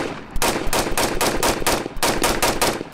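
A rifle fired in a rapid string of about nine loud, close shots at an even pace, with the shooter wearing body armor and a plate carrier.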